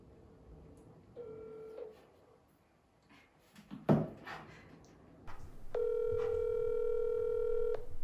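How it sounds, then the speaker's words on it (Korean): Telephone line tones: a steady beep near the start, then a long continuous ringing tone from the middle to the end, with a short clatter in between and faint talk in the background. "이게 얼마 만에 전화 연결이죠?"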